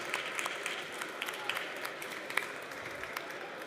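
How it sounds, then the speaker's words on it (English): An audience at a panel talk on physical AI and robotics data applauds, a dense, even patter of many hands clapping at moderate distance that holds steady throughout without fading. "So please give them a round of applause"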